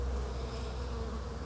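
A honeybee carrying pollen buzzes close by in a steady, unbroken drone over soft outdoor background.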